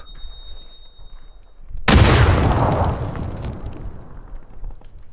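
A grenade explosion in the PUBG video game bursts suddenly out of near silence, one loud close blast whose rumbling tail fades over several seconds.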